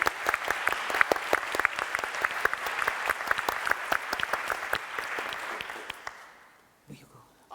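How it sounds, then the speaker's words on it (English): Audience applause at the opening plenary of the EUSBSR Annual Forum, many distinct sharp claps in a steady burst from a hall crowd, fading out after about six seconds. "let's release Minister Haavisto with a round of applause."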